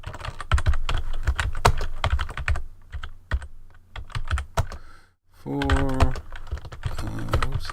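Rapid typing on a computer keyboard while entering a web page title, dense close key taps in bursts with brief pauses, and a voice speaking near the end.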